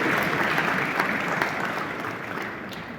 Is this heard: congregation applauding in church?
yes